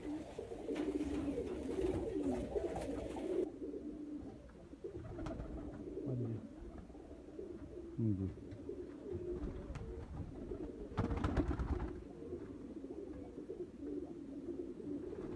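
Pigeons kept by a fancier coo steadily in soft, overlapping rolling calls, close and continuous, with a brief rustle of wing or movement near the end.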